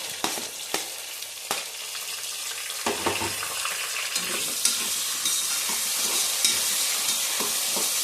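Sliced onion and long green chillies frying in a pan for jackfruit biryani, an ongoing close sizzle punctuated by sharp spoon taps and scraping stirs that come every second or two.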